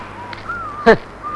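A single harsh crow caw rings out once, fairly close, over a faint steady background tone.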